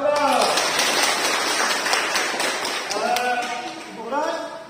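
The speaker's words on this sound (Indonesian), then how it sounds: "Tepuk tangan buat Ibu Ros" Clapping from a small group of women at a community health session on stunting prevention, a steady patter of claps filling the room while voices talk over and around it.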